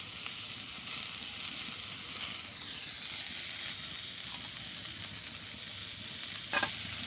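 Sliced onions and green chillies sizzle and fry in a hot pan, a loud continuous hiss close by with faint stirring scrapes and a brief clatter near the end; no voices.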